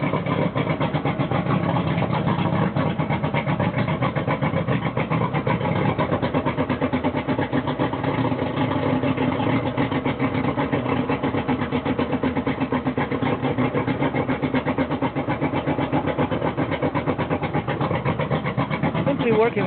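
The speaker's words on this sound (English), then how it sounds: "this Hong-Kong outboard is bloody loud" A small Hong Kong-made outboard motor runs steadily, fitted with a homemade muffler of pipe and inner tube, giving a continuous loud buzzing drone with no breaks, under ongoing talk.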